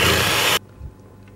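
An electric mixer whirs loudly as it beats milk and egg yolks, then cuts off abruptly after about half a second, leaving near silence.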